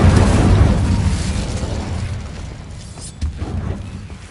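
Incendio fire spell in the video game Hogwarts Legacy goes off in a loud, close, booming explosive burst that decays over a few seconds, with a smaller pop near the end.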